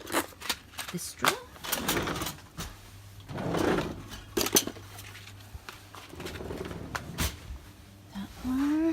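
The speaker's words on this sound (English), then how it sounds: "Okay, so we're going to open up this drawer." A drawer holding pharmaceutical contraception products being pulled open, giving scraping slides and clunks mixed with rustling handling noises, close by, while a person talks throughout.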